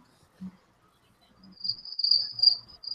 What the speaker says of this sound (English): he took the crickets out there